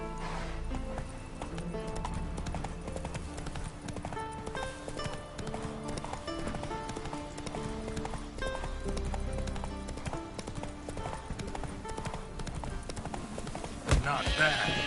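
Horse hooves clip-clopping at a steady riding pace in The Witcher 3 video game, heard under continuous background music and spoken dialogue.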